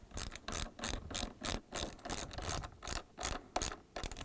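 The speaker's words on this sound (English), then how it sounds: "And now we can tighten that 10mm bolt and go to the other two." A ratchet tightens a 10mm bolt on a Samsung refrigerator door, giving a close, crisp series of rapid clicking bursts in a regular back-and-forth rhythm with no voices.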